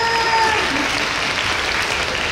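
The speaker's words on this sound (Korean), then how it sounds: "네, 괜찮으셨다면 박수!" An audience at a concert claps, producing a steady wash of applause that fills the space, with a faint tonal sound fading out near the start.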